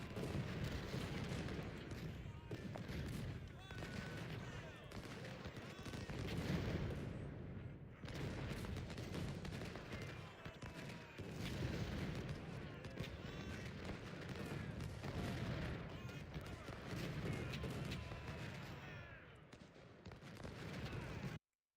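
Dense, continuous battlefield gunfire from the Ultimate General: Civil War strategy game: overlapping musket volleys, crackling fusillades and deep artillery booms roll on steadily, loud throughout, with only brief lulls.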